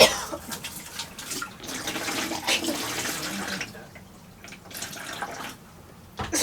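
Water sloshing in a liveaboard sailboat's bilge, an irregular wet splashing and dribbling that rises and falls in bursts, close and moderately quiet.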